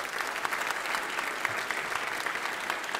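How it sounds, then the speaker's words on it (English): Audience at a regional Martin Luther King Jr. celebration applauds steadily, a dense sustained sheet of clapping from a large crowd, loud and close, with no talk over it. "Another round of applause,"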